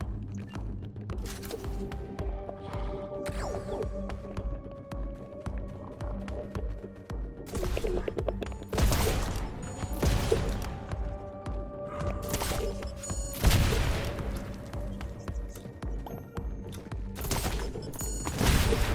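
Gunfire and explosions in the video game Super Legends Survival, a chaotic run of sharp bursts and heavy booms over a continuous game soundtrack, several loud blasts spaced through the action.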